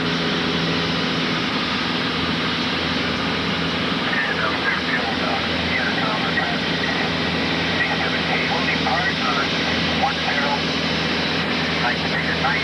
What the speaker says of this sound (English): 270 is a low pass down runway 28 for departure.